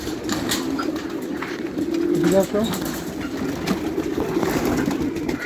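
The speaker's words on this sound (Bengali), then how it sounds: "এগুলো হচ্ছে আমার ফার্মের সর্বপ্রথম কবুতর" Pigeons coo softly on a farm, their low murmuring steady throughout under a constant background hum, with a brief louder flutter of calls midway.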